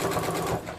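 A sewing machine stitches pillow fabric in a short, fast, continuous whir of needle strokes, close and steady, with no talk.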